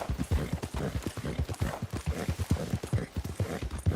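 Rapid, rhythmic clip-clop of horse hooves galloping at a steady pace in the video game Red Dead Redemption 2, loud and close with no voices.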